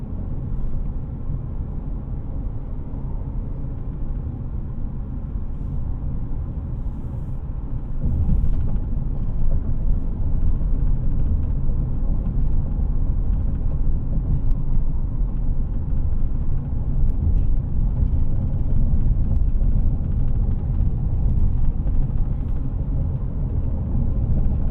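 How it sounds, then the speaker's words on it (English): A 2019 Nissan Pathfinder SL 4WD driving a rough road, heard from inside the cabin as a steady, loud low rumble of tires and engine that thickens partway through, with no talking. "Now this is a tough part of the road, and the Pathfinder seems to be handling it excellently."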